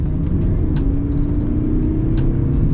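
A Mercedes-Benz C220d W205 diesel car drives fast with a steady, loud engine drone and road rumble heard from close by, with a few short clicks or taps on top.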